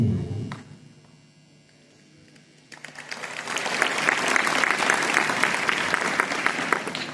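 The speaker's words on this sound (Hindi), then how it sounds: "ताली बजा करके आप लोगों ने हमारी बात का सम्मान किया है" Audience clapping at a Republic Day school address, beginning after a brief spoken word and quiet pause, then building into sustained, fairly loud applause from a crowd.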